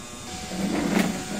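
A DTF printer runs with a steady close mechanical whir and hiss, swelling slightly midway in a short, continuous stretch of machine noise.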